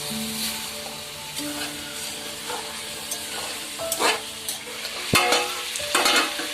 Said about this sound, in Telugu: నీళ్ళన్నీ ఇంకిపోయేంత వరకు నూనెలోనే మగ్గనిద్దాం